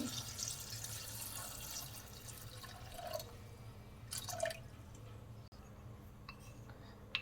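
Water splashes and trickles into a pressure cooker in short bursts, fairly quiet, with small clinks of metal between pours, while cooking white chickpeas.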